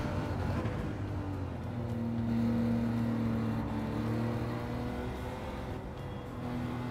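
A Nissan GT-R engine in the Gran Turismo 7 racing game drones steadily throughout, a sustained near whine with shifting revs, as if passing or running alongside another car, with no talk.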